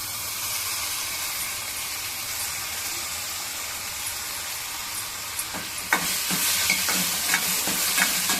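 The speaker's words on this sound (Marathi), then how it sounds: "आता आपला कांदा परतून झाला आपण टॅमॅटो घालूया" Onion and tomato sizzle in oil in a pan, a steady frying hiss that is joined midway by repeated scraping and clinking strokes of a spoon stirring, close up with no talking.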